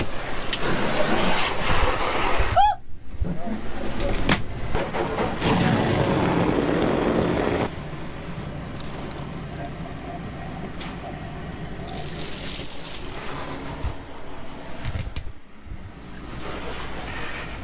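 Steady broadband spray of water from a hose hitting the top of a boat, loud and close, with an air-conditioning hum underneath and brief gaps where the spray pauses.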